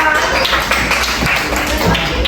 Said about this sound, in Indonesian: Oke, tepuk tangan untuk mereka semua